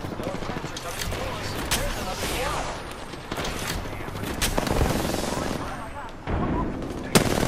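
Rapid gunfire from the battle royale video game Apex Legends rattles continuously and loudly, dense overlapping shots mixed with voices of players talking over the action.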